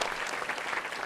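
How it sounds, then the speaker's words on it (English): Brief, steady applause from an audience at an event on living with MS and NMOSD, a dense, even patter of many hands clapping at moderate volume. "I hope that you all can give them a round of applause"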